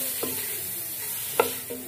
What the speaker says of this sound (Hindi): अब इसमें हम लौकी डालेंगे जो हमने कद्दूकस की थी, और इसको हम फ्राई कर लेंगे।